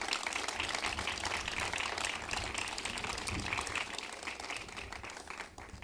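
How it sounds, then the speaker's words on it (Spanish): Sustained applause from an audience at an exhibition opening in Puerto de la Cruz, honoring a dancer; dense, steady clapping throughout that fades slightly toward the end. "De nuevo el aplauso para ella."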